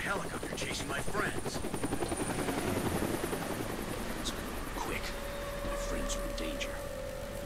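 A helicopter in the video game Deadlight thrums steadily throughout at moderate level, its rotor chop continuous, with faint game effects and a brief tone on top.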